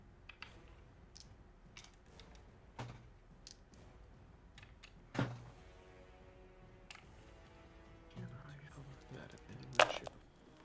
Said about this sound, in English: As I roll a fuckload of dice.